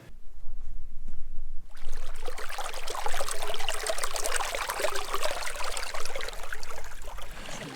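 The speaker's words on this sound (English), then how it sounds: "I sounded it of that little bubbling brook." A small bubbling brook on Dartmoor runs steadily close by, a continuous trickling, splashing wash of water that starts abruptly after a quieter opening and holds an even level throughout.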